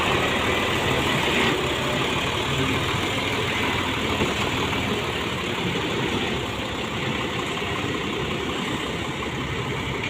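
A dump truck reversing to tip out a load of soil, its engine running in a steady, loud, continuous drone for the whole stretch, close by with no talking.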